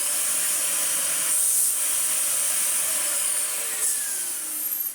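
A Dyson DC40 upright vacuum cleaner with a snapped part runs continuously, a bright high-pitched whine and airy rush holding steady for several seconds with slight shifts in pitch.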